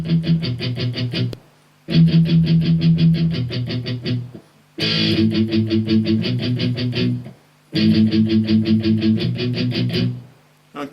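Palm-muted electric guitar chords play the verse of a song in four chugging phrases, separated by short pauses, loud and close with no talking.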